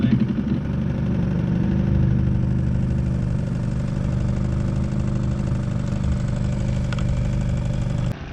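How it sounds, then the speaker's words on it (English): A boat engine idles steadily and fairly loudly at a constant, slightly high pitch for several seconds because its idle is set too high, then cuts off abruptly at the end. "I think it's the idle's up too high"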